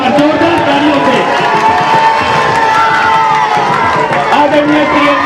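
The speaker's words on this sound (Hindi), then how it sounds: "जोरदार तालियों से आप उनका स्वागत करें।" A large outdoor rally crowd in Pilkhuwa applauds and cheers loudly and without a break, with shouts and voices mixed into the clapping throughout.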